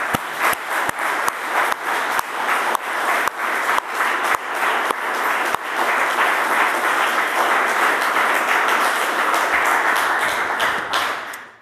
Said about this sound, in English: let's also give him a big round of applause